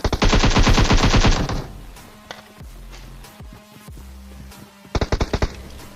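An AKM rifle fires in the mobile game PUBG Mobile: a long, rapid automatic burst at the start, then a shorter burst of a few shots near the end, loud and close with a quieter stretch between.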